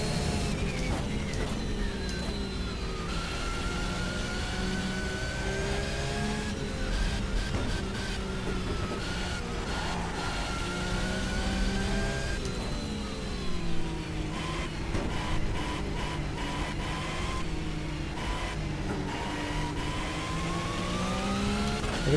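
Modern Porsche 911 race car engine in the GTR2 racing game, a steady loud drone with rising and falling pitch through gear changes and several sharp downshift blips, continuous throughout with no talk.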